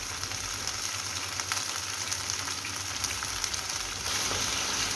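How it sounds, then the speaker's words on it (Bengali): Okra and turmeric-and-salt-coated prawns frying together in oil: a loud, dense, continuous sizzle and crackle heard close up, unbroken and even for the whole stretch, with no voices. "আর কয়েকটা চিংড়িও আমি এই যে হলুদ লবণ মাখিয়ে রেখেছি, চিংড়িটাও একই সাথে ভেজে নিলাম"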